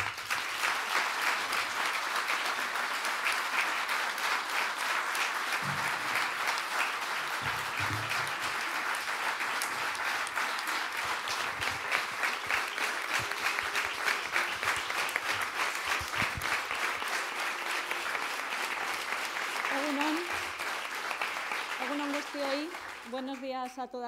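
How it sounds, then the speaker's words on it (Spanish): Sustained applause from a crowd at a campaign rally in Donostia, steady and dense clapping throughout, with a few faint voices and cheers under it near the end. "Un aplauso."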